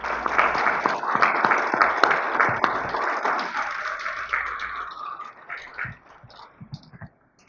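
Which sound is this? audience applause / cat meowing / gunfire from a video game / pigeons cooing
audience applause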